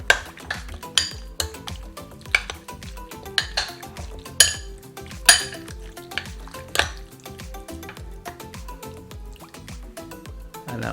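Chicken being mixed with corn flour and white wine in a bowl, with repeated wet clinks and taps of utensil against dish in an irregular rhythm, close and clear.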